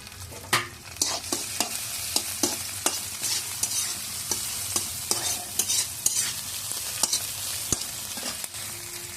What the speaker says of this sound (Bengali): রসুন কুচি দিয়েছি, শুকনা মরিচ দিয়ে দিলাম,